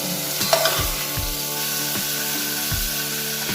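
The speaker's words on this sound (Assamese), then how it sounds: "গাজৰখিনিতে মই ভালদৰে ভাজি লওঁ" Grated carrots for gajar halwa fry in a pan with an even sizzle, while a spatula scrapes and stirs in regular rhythmic strokes close by.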